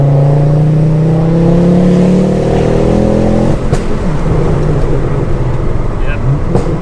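A Mk2 Ford Focus RS engine pulls hard under acceleration in second gear, its rising note loud and close from inside the car, then a steady rush of road and wind noise takes over.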